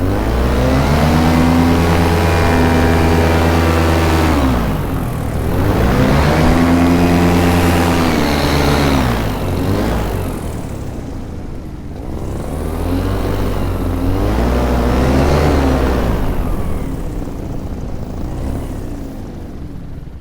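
An underpowered, heavily loaded paramotor engine drones loud and close in flight, with its pitch rising and falling through repeated throttle surges as power comes up and eases off.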